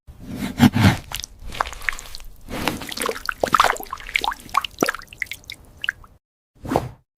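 Close, crisp crunching as something firm is bitten and chewed, a rapid run of crackly bites followed by a pause and one last short crunch.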